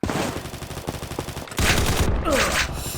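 Rapid gunfire bursts from the online shooter Combat Master, a dense stream of close, loud shots with a heavier burst of firing in the second half, no voices.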